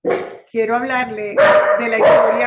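A pet dog barks several times in a home setting, its sharp, fairly close barks overlapping someone speaking Spanish during an online medical symposium talk.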